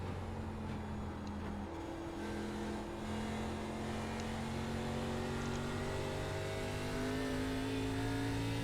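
An ARCA race car engine in the iRacing sim revs under throttle out of a turn on a short track, a steady droning whine whose pitch climbs gradually, moderately loud and continuous.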